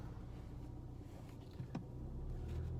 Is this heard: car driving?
yes